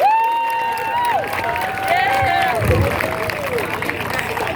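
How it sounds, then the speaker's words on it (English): A crowd at a high school mock car crash demonstration claps and cheers for the actors, a loud mix of applause, shouts and chatter, with a whistle-like tone rising over the noise. "Let's give it a round of applause for our actors and actresses"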